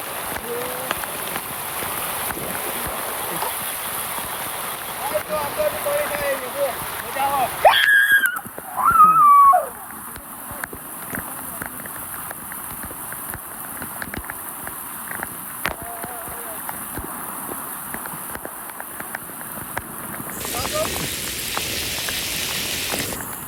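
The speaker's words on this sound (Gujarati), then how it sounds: "તો મિત્રો આવો જોરદાર વરસાદ આવતો હોય" Heavy monsoon rain pours down on a village in a steady, dense hiss, broken briefly by a few louder splashes and bursts partway through.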